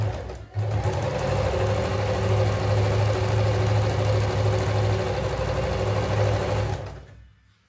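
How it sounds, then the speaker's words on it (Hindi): A sewing machine runs steadily while stitching the lining of a frock for an 8-year-old girl, giving a continuous close mechanical whir that stops abruptly near the end. "ये हम अस्तर की सिलाई कर रहे हैं।"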